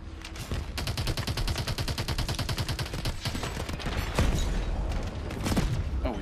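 Rapid automatic gunfire in the video game Call of Duty: Advanced Warfare, loud and sustained bursts with heavy booms and explosions near the end, dense and close throughout.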